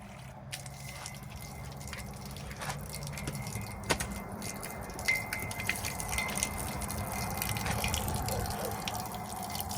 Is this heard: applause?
no